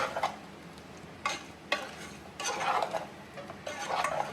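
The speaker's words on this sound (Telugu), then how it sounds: "మొత్తం కలిసేటట్టు కలుపుకోవాలి." Spicy Andhra-style egg garlic curry is stirred in a pan so the garlic-chilli masala coats the eggs, with soft, quiet scraping strokes and a faint sizzle. No one talks.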